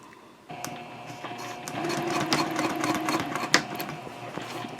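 Sewing machine running a long basting stitch along a handbag seam, its steady mechanical whir starting after a brief pause and continuing close and fairly loud with rhythmic needle clicks.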